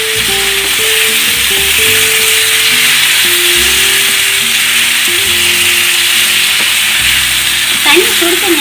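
Chicken with turmeric and coriander powder for chicken biryani sizzles steadily and loudly in a pan, with a constant close frying hiss, occasional stirring, and faint background tones underneath.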